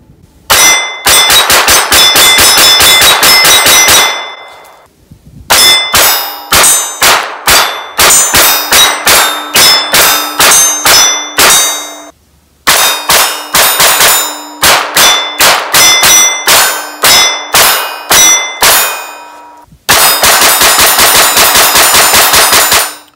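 Rapid pistol shots from a P17 ring off steel targets, sharp loud cracks each followed by a metallic clang, fired in four long strings separated by short pauses.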